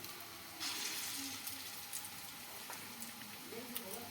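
Red lentil fritters frying in hot oil, a soft, steady sizzle and bubbling with faint occasional pops, close but quiet throughout.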